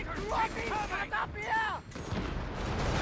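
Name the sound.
artillery bombardment in Company of Heroes 3 video game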